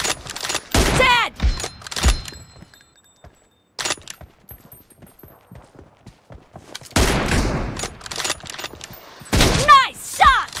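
Sniper fire in a one-on-one video game match with an M24 quick scope: several sharp, loud shots with echoing tails, bursts early and late, separated by a quieter stretch of small clicks and thuds.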